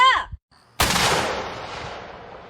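A mortar fires a high-explosive round in an army live-fire drill, one sharp, loud close blast with a long rolling echo, just after a brief clipped voice.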